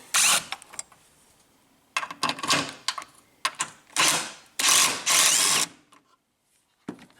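A ratchet loosens bolts on the battery tray of a Ford Fusion. It comes as a string of loud, close mechanical bursts separated by short pauses, with no talking.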